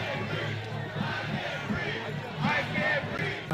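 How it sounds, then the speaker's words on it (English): A dense crowd chants a Black Lives Matter slogan in unison, loud and close, its rhythmic shouting blending into a rough roar of many voices. "the crowd sarcastically chants a Black Lives Matter slogan"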